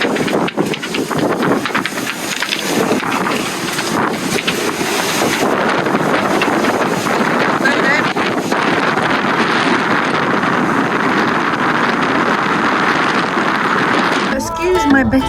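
A boat engine runs at sea off the Italian coast in strong wind, a loud, steady, broadband roar buffeted by gusts that continues without a break for the whole stretch.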